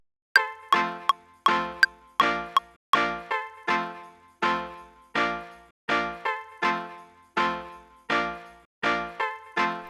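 Four bars of plucky chord stabs loop in Ableton Live for a jungle track, each chord struck sharply and decaying quickly, with brighter ding-like notes at the start, in a steady repeating rhythm and no talking.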